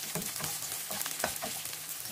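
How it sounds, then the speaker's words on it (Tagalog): Sliced white onion dropped into hot oil for beef with pineapple, a close crackling fry with uneven popping bursts and light stirring scrapes, quiet but continuous. "Baka mainit na ang mantika, dalagay ko na ang sibuyas muna."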